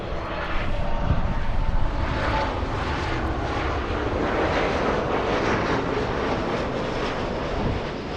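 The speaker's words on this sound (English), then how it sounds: "We have United 1897 flying in from San Francisco. That's a 51-minute flight, a 737 MAX 8." A United Airlines Boeing 737 MAX 8 arriving at LAX from San Francisco gives a steady, broad jet roar that holds at moderate loudness throughout, heard alone with no talk.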